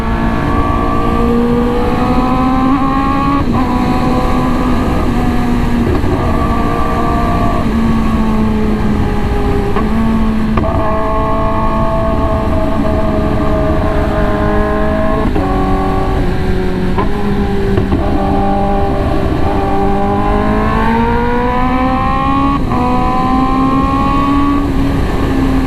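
A Kawasaki ZX10R motorcycle revs hard and close, its engine note rising and falling steadily with the throttle, while faint sharp exhaust backfire pops crack through at a few moments.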